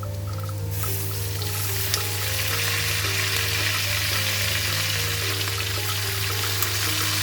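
Shrimp paste (alamang) frying with garlic and pork in a pan gives a steady, close sizzle and crackle, with a low hum underneath and the occasional stir.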